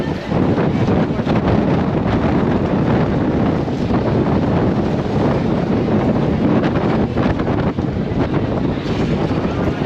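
Strong wind buffets an outdoor microphone in Palma, Mallorca, a loud, steady roar with gusty rumble that never lets up across the whole stretch.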